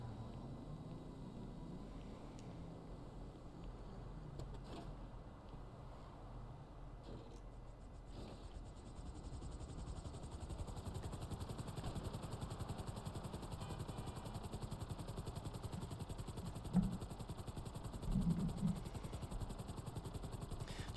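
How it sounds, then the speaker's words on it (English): Helicopter in the video game GTA Online flying steadily, a continuous rotor and engine drone lasting throughout at moderate level, with a few clattering bumps near the end. "I'm gonna take a helicopter for this."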